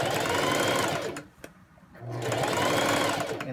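Sewing machine understitching the facing on a pant hem: steady, loud motor whir with rapid needle chatter, a brief pause mid-run, then stitching resumes at full speed.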